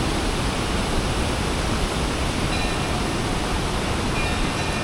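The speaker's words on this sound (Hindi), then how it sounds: "और एक सुंदर सी चीज़ दिखाता हूँ, ये लो, कितने सारे वाटरफॉल, कितने सारे वाटरफॉल" Many waterfalls pour down all around at a high-altitude spot about 4130 m up, a loud, unbroken broadband roar of rushing water, steady and enveloping, with no voices.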